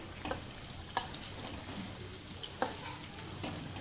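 Chicken pieces fry in oil for chicken pickle with a soft, quiet sizzle throughout, broken by a few sharp clicks and taps spaced irregularly, with no talk.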